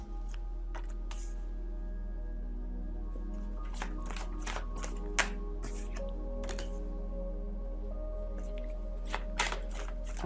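Tarot cards handled and laid onto a table: soft, close shuffling and sliding with scattered crisp card snaps and taps, quiet and intermittent over a steady low hum.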